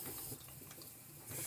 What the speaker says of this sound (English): filling with water.